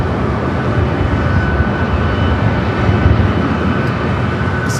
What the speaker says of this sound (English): So we've got another American Dreamliner heading up for a north side takeoff.